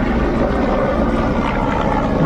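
A loud, steady low drone of a helicopter flying overhead with a thrumming rotor texture, constant throughout without any voices.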